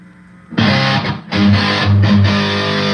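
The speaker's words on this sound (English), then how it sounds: "this thing sounds like a real Marshall. It's fat and full." Electric guitar played through a Marshall-style amp with the master volume cranked, loud distorted chords struck in a few bursts with a thick, full sustain and brief pauses between.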